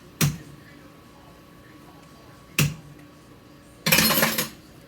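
Wet metal spoons scoop homemade dumpling dough for chicken and dumplings, giving two sharp clinks against the pot a couple of seconds apart, then a longer scraping clatter, close and alone.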